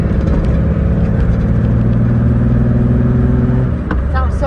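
A 1988 Ford Bronco II with a newly fitted exhaust cruising in third gear, its steady mid-pitched engine drone carrying through the cabin under a voice talking over it.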